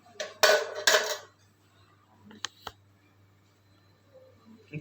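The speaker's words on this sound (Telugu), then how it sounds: "ఇది నాన్ స్టిక్ కడాయి కదా, చెక్కతో కదిలిస్తున్నాను" A wooden spatula stirring bottle gourd milk halwa in a non-stick kadai on the stove: two close scraping strokes, then a few light clicks and taps over a faint steady hum.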